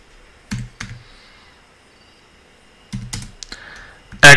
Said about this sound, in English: Here go in the new tab and type in for Adobe.